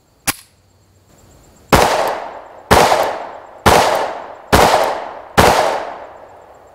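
Five sharp 9mm pistol shots from a Springfield Hellcat crack out in an even, fairly quick rhythm, each loud and close with a short decaying ring. A single shot comes first, followed by a brief pause.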